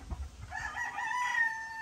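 A Sweater-cross gamefowl rooster crows once, a fairly faint, drawn-out call heard alone.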